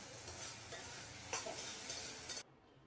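Boiled dried fish fries in hot oil in a home kitchen while a spatula stirs it. A quiet, steady sizzle is broken by scraping stirs, then cuts off abruptly near the end.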